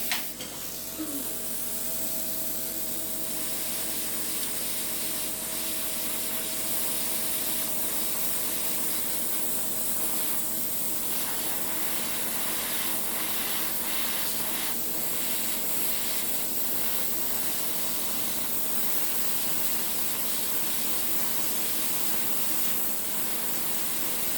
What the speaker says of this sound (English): More drill please, Stephanie.